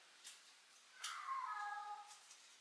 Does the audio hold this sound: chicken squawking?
no